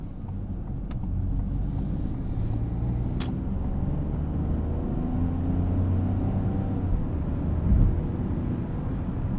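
A 2021 Ford Bronco Sport Big Bend with an 8-speed automatic is driving, giving a steady low engine and road drone with no obvious break at the gear changes.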